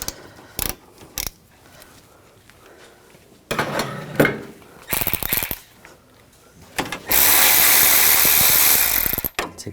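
A 13mm socket ratchet loosens a nut while replacing the AC liquid line on a 2006-2010 Hummer H3 3.7L, heard as bursts of clicking and metallic clatter with quiet gaps and a long harsh stretch near the end.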